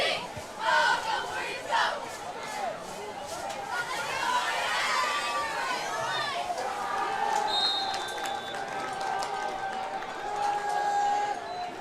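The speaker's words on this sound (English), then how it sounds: "you can vividly hear the cheers of our current starter seniors on the sideline, just cheering the guys who are getting playing time" Seniors on a high school football sideline cheer and shout for teammates getting playing time during a game against St. Edwards High School, a steady crowd of overlapping voices with whoops and chatter at moderate distance.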